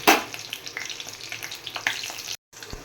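Red spinach frying with garlic in a pan, stirred with soft scrapes over a continuous sizzle, brief and close, ending in a short gap and a final tap.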